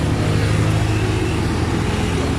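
A tuk-tuk rolls downhill on a road in Pai, its small engine giving a steady, loud, close drone that carries on without a break.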